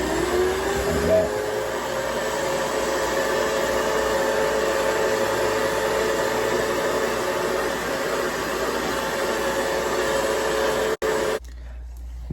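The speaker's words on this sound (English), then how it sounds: "the lotion and then blow drying it, it makes it like super soft and fluffy" A hair dryer runs continuously at close range, blow drying hair after lotion, a steady loud whooshing whine that cuts off abruptly near the end.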